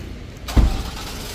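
A 2024 Ford Ranger XL 4x4 pickup with manual transmission, in Aluminum Metallic, driving off, with a steady vehicle rumble and a brief louder surge partway through.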